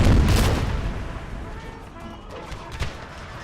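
Cannons fire canister shot in a Empire: Total War battle, a heavy booming blast at the start that rumbles and fades, with a smaller thump later.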